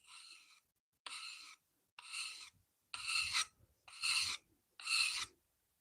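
Blade of a Stanley No. 4 hand plane rubbed flat on an abrasive, six separate rasping strokes about a second each, close and fairly loud, with short silences between them.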